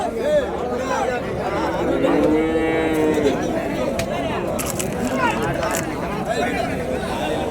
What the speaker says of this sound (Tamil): இன்னைக்கு ஊத்தங்கரையில் வந்துருக்கிற பாருங்க பசு மாடுங்க நாட்டு பசு மாடுங்க